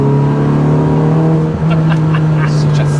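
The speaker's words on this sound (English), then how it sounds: "Such a throaty noise on it." A cammed Citroen C2 rally tribute car's small engine holds a steady, throaty high-rev drone up close, loud and continuous with a slight dip midway, while faint voices come in over the top near the end.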